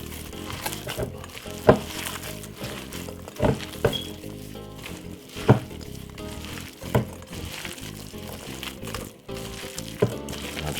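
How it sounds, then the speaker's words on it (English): Pork sausage meat being squished and worked by hand with cranberries and raisins for Christmas sausage meat, giving a close, wet, sticky churning with irregular soft slaps and squelches throughout, no talking. "Use a hand and give it a nice lovely mix like this."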